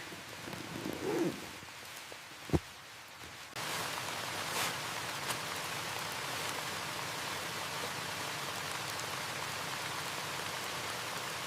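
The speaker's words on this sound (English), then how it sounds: "Watch the rain." Steady rain falls on a tent during a solo overnight camping trip in a rainstorm. After a few close rustles and a sharp knock, the dense hiss of rain holds even and full for the rest of the stretch.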